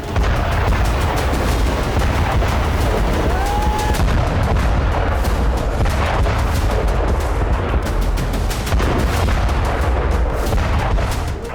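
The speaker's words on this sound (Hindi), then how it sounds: "इजरायली फाइटर जेट्स ने उड़ान भरी और फिर लेबनान की सीमा के भीतर वैसे ही धमाके शुरू हो गए" Explosions and heavy blasts in Lebanon after Israeli fighter jet strikes, a dense continuous rumble of booms and sharp reports at loud, fairly close range, with a brief whistling tone partway through.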